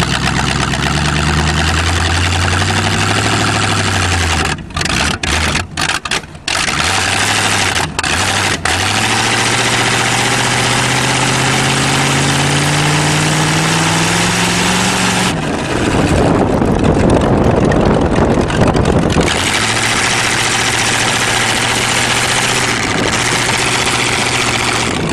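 A Chevrolet-based Cheviac car engine after a tuneup, running steadily on a test drive, with rising and falling harmonic tones as it gently accelerates, loud and close throughout, with a brief rougher burst partway through.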